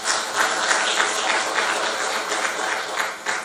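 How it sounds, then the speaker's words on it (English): An audience at a national workshop on occupational health services in mines claps for a speaker, a continuous dense patter of many hands held at an even level throughout the short stretch, with no voices over it. "I would request everyone here to give a round of applause to him."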